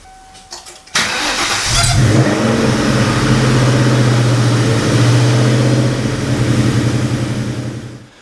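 A 1997 Ford Mustang Cobra, after cooling system work, cranks briefly and fires up, settling into a loud, steady idle with a slight revving swell, close by and heard alone.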